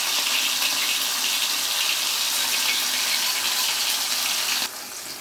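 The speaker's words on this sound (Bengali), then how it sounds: "এখন চামচের সাহায্যে একটা একটা করে দিয়ে ভেজে নিব।" Chicken giblets fry in soybean oil over medium heat, a loud, steady, close sizzle of hissing bubbles that holds constant and then drops slightly in level at the end.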